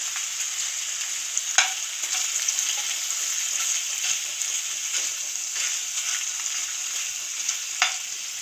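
Food frying in hot oil until golden brown, a steady close sizzle with a few sharp pops breaking through the crackle, no talking.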